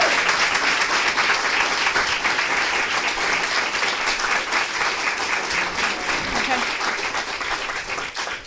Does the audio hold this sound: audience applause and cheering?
yes